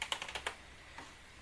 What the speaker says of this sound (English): The keys feel decent enough. Soft, not too noisy.